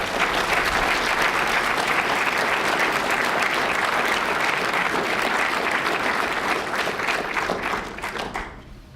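Enthusiastic audience applause fills a lecture hall as a speaker is welcomed to the stage, a loud sustained wash of clapping that holds steady before fading away at the end.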